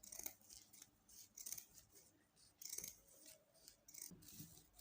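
Scissors snip around a round opening in fascinator material: three or four distinct crisp cuts, close and fairly quiet, with faint rustling of the material between them and no talking.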